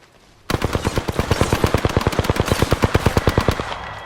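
Rapid automatic gunfire in the Apex Legends battle royale game, a sustained burst of about thirty evenly spaced loud shots lasting roughly three seconds, starting abruptly and stopping cleanly, with no talk over it.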